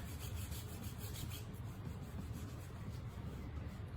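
A stain mixture is rubbed steadily onto a wooden crate, producing continuous close, loud scrubbing and rasping friction with no pauses.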